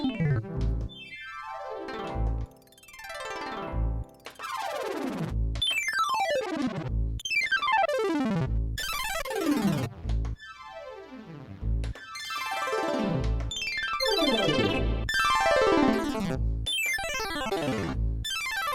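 A Roland D-20 synthesizer plays a series of bright synth notes with sweeping, descending tones, each struck in turn with short gaps between, clear and prominent for the whole stretch.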